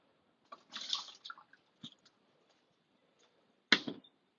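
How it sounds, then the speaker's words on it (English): Water splashes and trickles out of a mug in a short pour, a brief gurgle, then a final sharp splash into a sink, close and fairly quiet. "We can discard the water."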